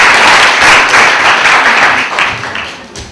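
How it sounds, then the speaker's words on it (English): Audience applause welcoming a speaker at an indoor event, a dense, steady wash of many hands clapping close by, loud throughout and tapering slightly near the end. "I think we need to give him a welcoming applause here"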